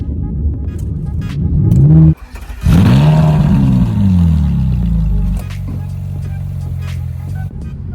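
Ferrari 458 Italia on the road, its engine revving loudly through rising and falling pitch sweeps, cutting out briefly during a gear change, then settling into a steadier cruising drone.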